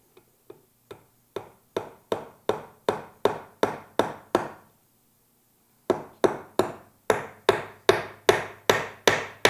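Hammer driving nails into wood while a bird house is built, a steady run of sharp taps that grow louder, a short pause, then a faster, stronger series of blows.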